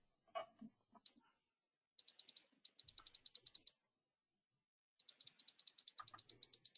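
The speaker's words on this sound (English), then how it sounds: "I can hear someone clicking" Rapid bursts of clicking on a computer keyboard or mouse during an online meeting, coming in quick rhythmic runs separated by short silences, with a faint voice early on.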